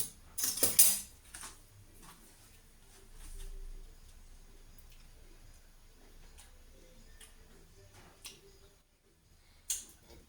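Metal spoons and cutlery clink and rattle in short, scattered bursts while a clean spoon is picked out, with quiet gaps between the knocks.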